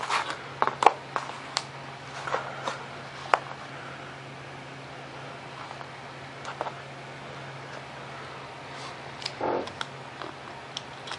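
An X-Acto knife drawing straight cuts through foam board for a Super Cub model plane wing, heard as faint, scattered scratchy ticks and short scrapes over a steady low hum with no talking.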